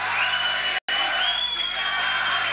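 Boxing arena crowd roaring and cheering for a fighter, a dense sustained wall of whoops and yells with one brief dropout, heard close and loud throughout.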